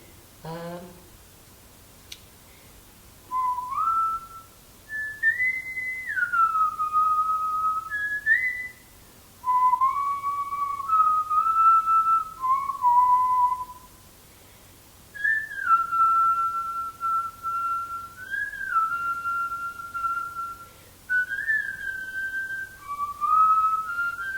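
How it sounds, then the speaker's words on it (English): A person whistles a slow, wandering melody in clear bursts with short pauses between phrases, close and fairly loud with no talking. "my favorites are the snapping and the whistling"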